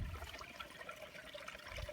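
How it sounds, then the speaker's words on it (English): A small babbling creek in the Scottish hills trickles steadily, a faint, continuous burble of running water with no one talking. "There's just here like a little babbling creek thing here as well actually."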